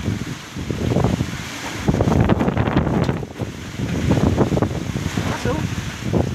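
Strong wind gusting over a rooftop with loose corrugated metal sheets and a rooftop pigeon house: loud, buffeting roar in surging waves, heavy wind noise striking the microphone, with voices talking over it.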